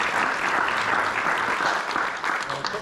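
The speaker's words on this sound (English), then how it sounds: "let's give another round of applause for the volunteers" Audience applause for volunteers at a San Diego fire safety workshop and expo: a loud, sustained, dense roll of clapping from a sizeable crowd, steady from start to finish.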